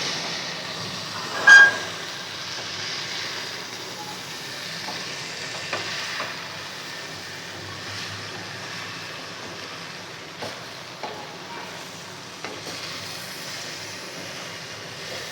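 Okra and masala stirred in a pan over slow heat, a steady low sizzle of frying with a few soft scraping knocks from the spoon, no talking.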